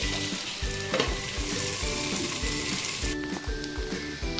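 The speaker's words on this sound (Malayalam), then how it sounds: "അതിനുവേണ്ടി ഒരു മീഡിയം ഫ്ലെയിമിൽ ഇട്ടേക്കാം" Pieces of elephant yam fry in oil over a medium flame, sizzling steadily and close up, with a faint tonal hum and light stirring scrapes running throughout.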